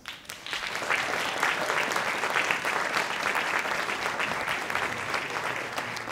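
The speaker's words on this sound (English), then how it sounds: "So I'd like to ask you now to welcome, with a big hand of applause for you, Pyrofoos." Audience applause fills a conference talk hall at a game design event, steady and dense clapping from a large crowd sustained throughout, loud and continuous without a break.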